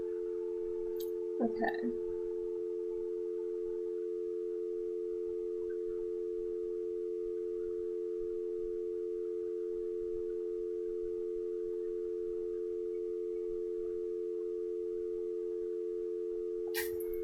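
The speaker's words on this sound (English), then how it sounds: "the phone noise always drives me insane" A telephone dial tone in the Nancy Drew game Secret of the Scarlet Hand, a steady unbroken electronic hum running nearly the whole time, with a brief spoken word and a few clicks near the start.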